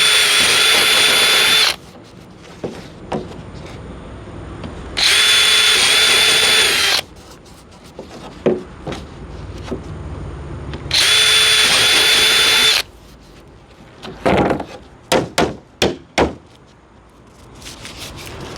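A power drill whines in three long, loud bursts while boring pilot holes in a steel plate for speaker mounting in a Hyundai Casper car door, with scattered knocks and taps between runs.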